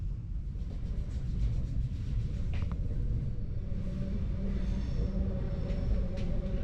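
Italian commuter train rolling from Venice toward Verona, heard from inside the carriage as a continuous low rumble with rhythmic wheel clatter and faint squeaks, steady and moderately quiet, with no talking.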